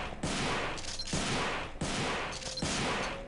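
A video game weapon fires a rapid, continuous burst of shots. The loud, dense gunfire swells in roughly three repeating waves and is heard alone, without voices.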